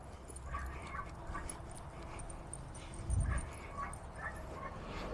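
Dogs at the Wagon Tails dog park in North Kansas City give faint yips, whimpers and a brief bark at a distance, set against quiet outdoor background noise.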